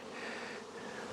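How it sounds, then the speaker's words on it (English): Honey bees hum in a steady, faint drone with no voices over it. "Well, you got a few bees now."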